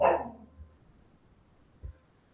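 A single sharp bark up close at the start from a pet dog kept outside the house, followed by near silence with a couple of faint low thumps.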